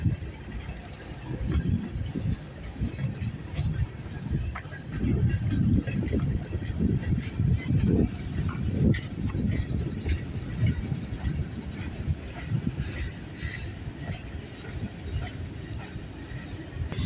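A CN freight train rumbles past trackside in Vaughan, Ontario, its low heavy roll and wheel clatter swelling in the middle and easing slightly toward the end, continuous and unbroken with no talk.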